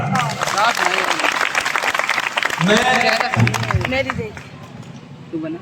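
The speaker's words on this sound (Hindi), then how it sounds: "बजाओ ताली एक बार।" Audience at a school Independence Day poetry recital clapping on cue, scattered rapid claps mixed with loud crowd chatter and voices, fading toward the end.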